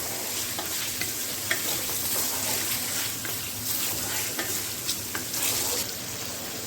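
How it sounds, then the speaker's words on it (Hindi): Chicken fries in ghee with garlic and ginger paste, a steady close sizzle with scattered pops and spatters and occasional soft scraping of stirring throughout. "चिकन भी हमारा माशाल्लाह से लहसुन और अदरक के पेस्ट के साथ भून चुका है।"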